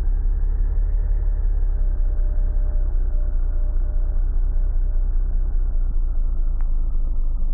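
A video game car engine idles steadily, a continuous low rumble that holds close and even throughout with no other sounds.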